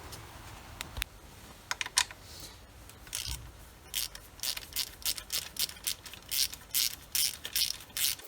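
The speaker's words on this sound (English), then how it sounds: "So we just need to undo these 10mm nuts" Ratchet clicking as 10mm nuts are undone on a Kia Soul 1.6 petrol during a service: a dense run of short, crisp metallic ticks in bursts, with a few sharper knocks early on, close and fairly quiet.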